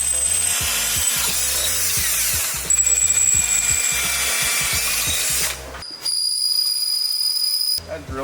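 A worn drill bit whines and grinds through thick aluminum plate in a continuous harsh scrape, cutting out near the end, with high squealing tones over it.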